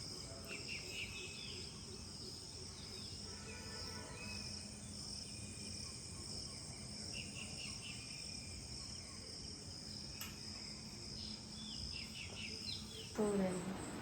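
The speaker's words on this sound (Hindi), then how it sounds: "चिड़ियों की चहचहाने की आवाज़ है" Early-morning outdoor ambience with a steady wash of insect and cricket chirring and scattered bird chirps, a continuous moderate bed with a brief louder rustle near the end.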